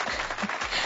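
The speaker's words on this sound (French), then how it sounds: "Bravo, on peut les applaudir. On les applaudit." An audience applauds the finalists of a TV show, a brief burst of dense, even clapping heard close.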